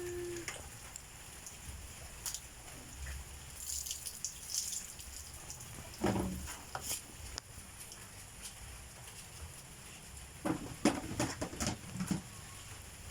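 Light midday drizzle falling outdoors, a faint, steady patter with scattered louder drops and soft knocks throughout, no voices.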